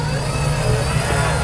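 Car engine revving in an offroad driving video game, a loud steady engine drone with a strong low hum throughout the short stretch.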